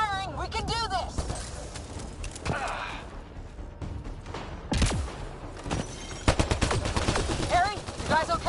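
Rapid gunfire bursts from a PS4 shooter game, loud and repeated, mixed with excited voices talking over the shots and a few sharp impacts.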